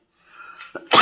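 A single close cough, preceded by a soft breathy throat sound, loud and abrupt, from someone with a lingering cold while cooking.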